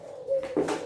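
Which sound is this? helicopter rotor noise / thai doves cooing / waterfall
thai doves cooing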